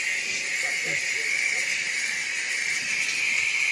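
A handheld steam cleaner hisses steadily and evenly as it is passed over a pair of pants, a close, continuous bright hiss with no breaks.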